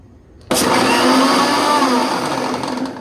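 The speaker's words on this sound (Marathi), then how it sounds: "फक्त थोडंसं फिरून घेतलंय मिक्सरमध्ये दूध" A blender starts abruptly and whirs loudly and steadily, mixing milk for a mango shake close by.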